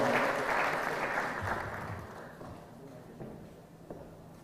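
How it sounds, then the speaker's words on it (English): Audience applause greets a professor arriving to give welcome remarks at a youth and innovation expo, a broad clapping wash that starts fairly loud and gradually thins and fades over a few seconds, with a few late scattered claps. "can we give Professor a round of applause as he comes to make his welcome remarks"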